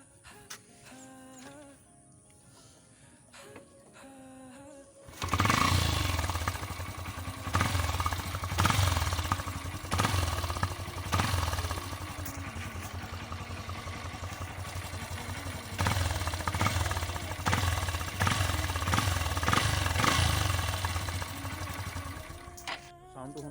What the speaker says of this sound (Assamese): বাইকখনৰ চাউণ্ডটো শুনাই আছোঁ